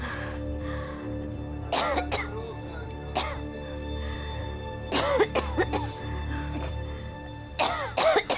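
A woman coughing repeatedly through a sleepless night indoors, several short clusters of harsh coughs separated by quiet pauses, with a faint steady hum underneath.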